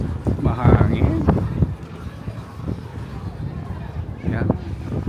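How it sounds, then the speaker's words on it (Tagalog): Gusty wind buffets the microphone in low rumbling bursts outdoors aboard the Disney Wish cruise ship, with people talking nearby. "Mahangin."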